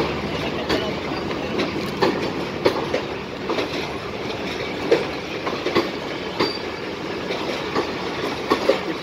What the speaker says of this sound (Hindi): पेशावर से कराची वाली ट्रेन है जो कि अभी अभी बिल्कुल रावलपिंडी स्टेशन पे आई है